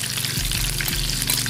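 Breakfast food frying in a home pan, a steady close sizzling hiss that runs throughout, with a low hum underneath.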